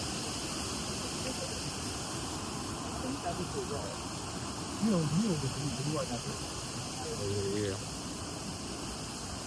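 A jungle waterfall in Thailand on a hiking trail, a steady broadband rush of falling water filling the background while people talk over it.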